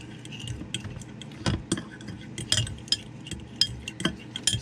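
A spoon stirs sriracha sauce in a bowl in an RV kitchen, giving irregular light clinks and taps against the bowl over a quiet background, close and without speech.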